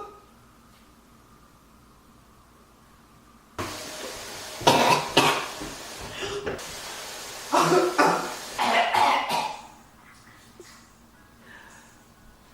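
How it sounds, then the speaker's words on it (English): A person coughs hard in two loud bursts of repeated hacking after a quiet start, with some throat noise between the fits, recorded close indoors. "Coughing. I'm already gagged."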